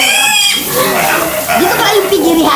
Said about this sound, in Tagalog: Ang daming pig, ang daming anak.